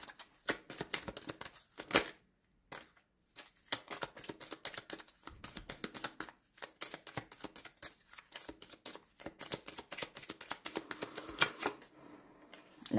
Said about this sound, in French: On va aller tirer une autre carte pour voir.